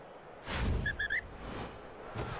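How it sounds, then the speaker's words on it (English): A referee's whistle blows for offside in the Rugby Challenge 2 video game, a few short shrill toots over crowd noise and broadcast ambience. "the whistle goes for the offside"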